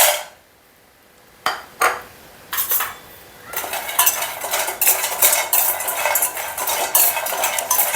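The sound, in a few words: frying almonds and nuts stirred in a pan on gas stove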